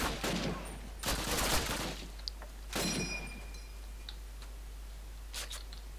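Gunfire in a Call of Duty game comes as a few bursts of shots and crackling impacts, separated by quieter gaps with faint ambient noise.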